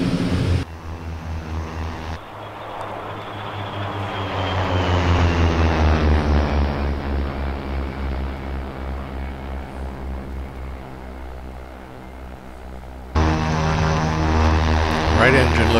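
OV-10 Bronco twin propeller aircraft engines in the DCS flight game, with the left engine damaged: a steady droning hum that swells and sags in pitch as power shifts, loud throughout, with a brief dip and later a fuller roar.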